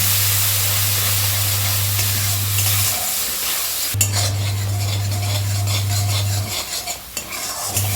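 Ground spice paste sizzling and frying in oil for a Bengali prawn curry, with a utensil scraping and stirring against the pan, a steady crackling hiss over a low constant hum, close and alone.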